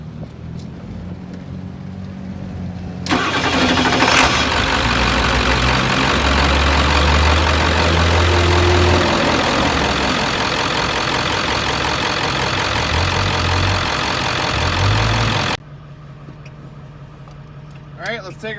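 A Ford F250 truck engine turns over and settles into a steady, loud, low idle close by after a quiet start, rumbling continuously for about twelve seconds before cutting back to quiet.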